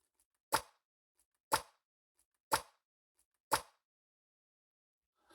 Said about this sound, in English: I hear it kind of peeling away from the cylinder.